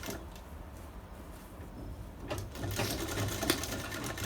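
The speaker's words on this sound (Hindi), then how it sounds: "इसी तरह से सिलाई लगाते हुए" A sewing machine runs steadily while stitching a bridal sharara, a fast rhythmic whirring clatter that grows louder and busier in the second half.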